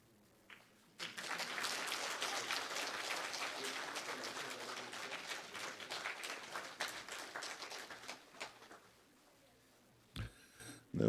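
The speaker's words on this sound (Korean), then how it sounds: "우리 모두 하나님 앞에 감사와 영광의 박수 돌려드렸으면 좋겠습니다" A church congregation breaks into sustained applause, dense clapping that runs for about eight seconds before thinning out, followed by a brief thump and quiet.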